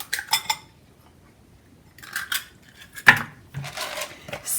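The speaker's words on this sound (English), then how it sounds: "I'm going to crack another egg into another bowl." An egg cracked against a bowl for carrot bread puffs, a few light taps and clinks of shell and dish with one sharper knock, close and quiet, no talk.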